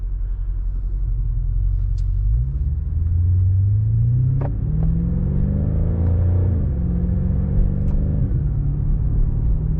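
A deep exhaust rumble from a BMW M5 with an AWE Track exhaust in manual mode, idling low and then revving up in pitch a couple of times before settling, close and loud.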